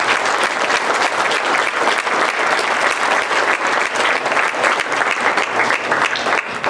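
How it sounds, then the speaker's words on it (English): A large crowd at a retirement celebration bursts into loud, dense applause that holds steady for several seconds, close and full, with no talk over it. "I would like to give a nice round of applause for my wife"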